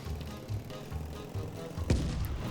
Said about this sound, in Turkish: Allah yine top top, top atıyorlar.